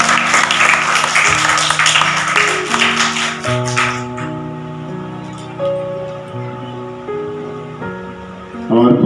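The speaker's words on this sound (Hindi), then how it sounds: "तालियां।" An audience at a Hindi stage play performance applauds in a thick, loud wash of clapping for about four seconds, which then gives way to sustained musical tones.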